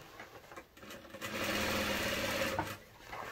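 A sewing machine runs a steady, continuous stitch along a lining seam, its motor hum rising to a sustained run mid-clip before easing off, close and alone.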